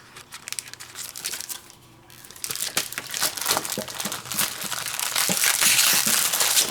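Sealed plastic packaging around a border stencil being torn and ripped open by hand, a run of loud crinkling and tearing bursts that builds and stays dense toward the end, close to the microphone with no talk.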